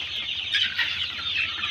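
Broiler chickens about 45 days old, on a liver tonic and vitamin course, cluck in a steady, dense chorus close by. The clucking runs continuously with no talking.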